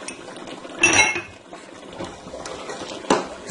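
Spoon clinking and scraping in a pan while suji halwa with coconut, almonds and walnuts is stirred, one loud clatter near the start and a sharper knock later over a soft kitchen background.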